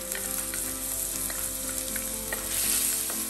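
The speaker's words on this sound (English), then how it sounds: "So I'm going to switch on this stove and go in with the oil, and straight away we're going to add the garlic" Chopped garlic sizzling in hot oil on a stove for char kuey teow, a dense continuous crackle with occasional stirring clinks and a steady hum beneath, no voices.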